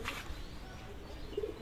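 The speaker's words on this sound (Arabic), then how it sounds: "فبصوا الحمام أصلا أهو، حمام بيكنس كده من على البيوت هيجي يحط" Pigeons on city rooftops give soft, low coos and faint chirps against a quiet outdoor background, the calls brief and somewhat distant.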